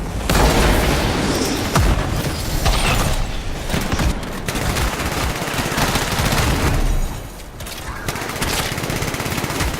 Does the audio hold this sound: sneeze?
no